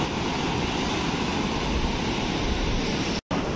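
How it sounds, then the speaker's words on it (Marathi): Sea waves wash onto a beach in Konkan as a continuous, loud surf roar that stays steady close by, with a very brief dropout near the end. "आता तुम्हाला मी सुंदर असा समुद्रकिनारा दाखवते"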